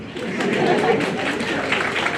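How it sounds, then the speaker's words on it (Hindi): An audience at an event claps together, a dense, moderately loud burst of applause with crowd chatter mixed in, lasting the whole short span. "तो एक बार इस सेक्रेटरी साहब के लिए जोरदार तालियां बजाओ।"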